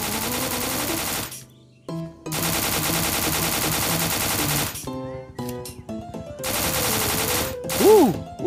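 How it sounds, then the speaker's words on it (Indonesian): Weapon fire in a video game, with loud broadband bursts of rapid automatic gunfire separated by short gaps, mixed with game music tones and a rising whistling effect near the end. "Kita akan coba senjata ini di luar, teman-teman."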